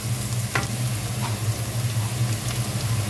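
Garlic sizzles and fries in a pan, a steady close hiss with a faint low hum beneath and a brief stir or scrape partway through, no voices.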